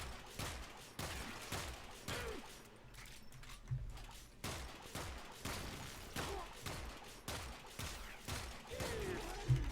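Gunfire in the video game Warframe hits Arctic Eximus enemies, a run of fairly faint, sharp repeated shots at uneven intervals, each with a short thumping low end.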